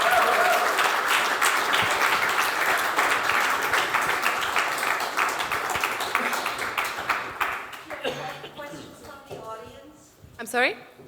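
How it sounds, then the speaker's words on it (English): A documentary premiere audience gives the panel a loud, dense round of applause that gradually thins and fades, with voices starting to speak as the clapping dies away near the end. "please join me in a huge round of applause for our panel today"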